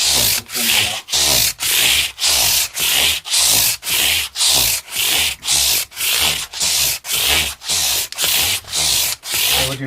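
Sandpaper rubs rhythmically over a wooden SG-style guitar body during a vintage white set-up, about twenty steady back-and-forth strokes in ten seconds, loud and close with no talking.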